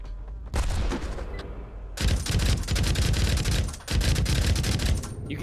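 Sustained automatic gunfire in a VR shooter game, dense rapid bursts that start, pause briefly, then resume louder and nearly continuous at close range.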